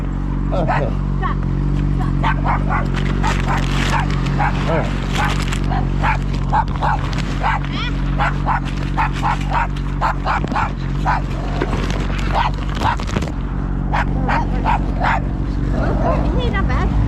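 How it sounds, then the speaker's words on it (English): Dog barking and yipping repeatedly beside a road, sharp close barks and whimpers scattered throughout over a steady idling motorcycle engine drone. "the dog is here!"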